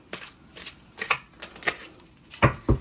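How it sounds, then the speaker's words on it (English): Tarot cards being shuffled by hand in a quiet room, a series of short crisp riffling bursts at an uneven rhythm, close and fairly soft, with no talking. "I shuffle the cards."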